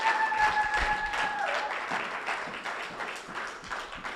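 A church congregation applauding, a broad steady wash of clapping that continues throughout and fades slightly toward the end, with a brief tone at the start.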